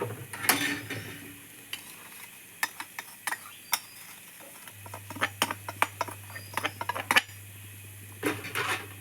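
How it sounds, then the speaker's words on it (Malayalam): Flattened rice with ground cardamom and sugar being mixed in a pan for a Kerala sweet, with scattered scraping and clinking of a spoon against metal and a faint sizzle beneath, fairly quiet and close. "ഏലക്കായും പഞ്ചസാര ഉണ്ടല്ലോ അതും കൂടി നമുക്ക് ഇതിനകത്തേക്ക് ഇട്ട് നല്ലപോലെ മിക്സ് ചെയ്യാം"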